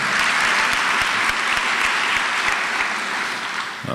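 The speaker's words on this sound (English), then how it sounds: "Give them all a big round of applause." Steady audience applause fills a hall at a school day forum on life after prison, a dense, even wash of many hands clapping throughout, loud and close, easing slightly near the end.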